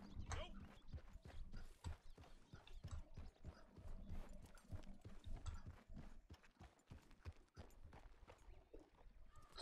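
Horse hooves clip-clop steadily in the Red Dead Redemption 2 online game, a busy rhythmic patter of quiet footfalls mixed with other game sounds.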